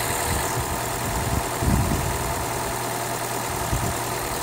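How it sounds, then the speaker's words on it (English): A Toyota Prius engine starts and settles into a steady idle while its brakes are being bled. It makes a continuous, fairly even mechanical hum with a few low thumps, and no one is speaking. "now the engine's going to start."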